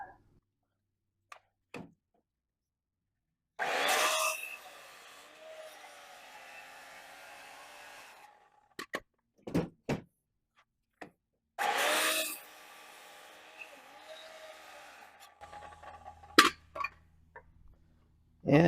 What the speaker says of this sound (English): Now to cut this, I use a circular saw